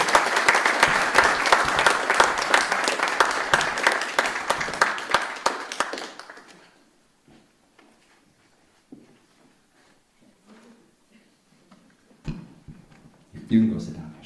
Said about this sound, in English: Let's give Asher a big round of applause